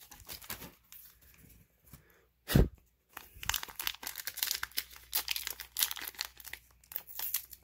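Foil wrappers of 2020 Topps Stadium Club retail trading card packs tear and crinkle nearby, with a sharp rip partway through and then a busy run of crackling and rustling.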